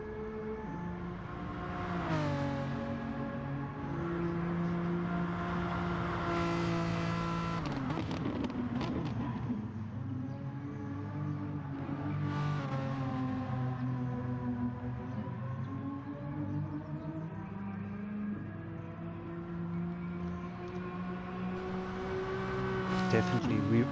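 A race car engine in a racing video game revs and shifts through its gears on a flying qualifying lap, rising in pitch, dropping at each upshift, and climbing again over a sustained loud drone while people talk over it.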